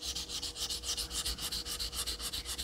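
A Chinese straight razor is honed on a Naniwa 1K whetstone thick with slurry, giving quick, rhythmic wet scraping strokes back and forth, close and steady, with no talking.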